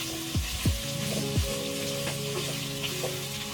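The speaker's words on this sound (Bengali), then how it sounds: "আমরা জাস্ট পেঁয়াজটা হালকা বাদামি করব।" Onions frying in a pan until light brown for a beef kala bhuna, a steady sizzle with a few stirring scrapes and low pops, close and alone with no voices.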